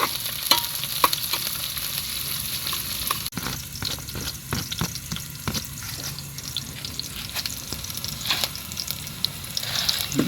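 Onions and tinola ingredients sautéing in a pan, with a steady close sizzle and frying crackle running throughout, plus occasional scraping stir strokes and a brief sharp knock near the middle.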